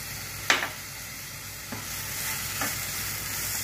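A spoon stirs radish chhechki in a pan after sugar has gone in. There is a soft continuous sizzle, a sharp scrape near the start and two fainter scrapes later, with no talking.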